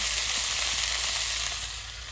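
Eggplant pieces fry in oil in a pan with green chili, salt and turmeric, giving a steady, close hiss of sizzling that runs unbroken throughout and eases off slightly at the end.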